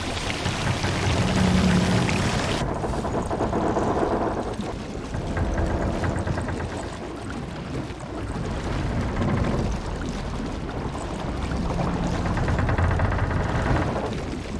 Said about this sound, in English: The next noises I'm about to play are when the boat is really close to sinking